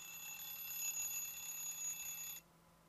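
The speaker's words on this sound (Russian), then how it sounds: "Будильник." Alarm clock ringing with a steady electronic tone that holds for over two seconds and then cuts off abruptly, leaving quiet.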